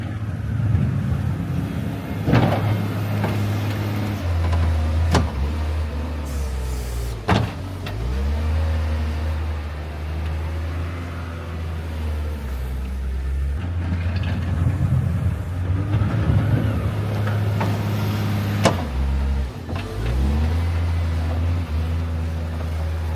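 A truck hauling manure out of cattle pens, its engine droning steadily and rising and falling, with clanks and thumps of the load and gear throughout.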